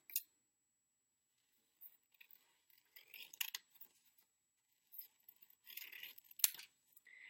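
Scissors snipping through paper to make ears for a first-grade mouse craft, with quiet, close crisp cuts in short bursts separated by silence.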